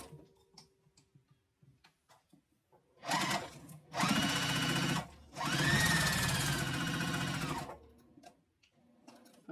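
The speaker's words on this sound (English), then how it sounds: "I'm gonna sew these two pieces together." Sewing machine stitching two fabric pieces together with a half-inch seam for a quilted zipper case, running in two close, loud bursts of steady whirring motor and needle clatter, separated by a short pause, amid quiet room sounds.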